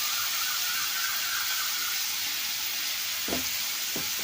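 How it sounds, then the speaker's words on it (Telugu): Chana dal with turmeric is stirred in a hot pan, giving a steady sizzling hiss with a couple of scraping strokes of the spoon near the end, close and continuous. "ఒకసారి పప్పు కలుపుకుందాం."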